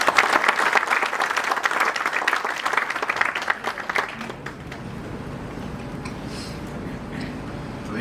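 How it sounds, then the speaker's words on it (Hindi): Audience applause at an institute of management and technology conference opening, loud dense clapping for about four seconds that thins into quieter scattered claps and room murmur. "तालियों की गड़गड़ाहट।"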